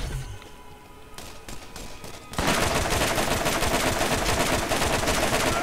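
Gunfire from an inaccurate weapon in the shooter Borderlands: after a couple of quiet seconds with a few isolated shots, a loud, steady burst of rapid automatic fire runs to the end without pause.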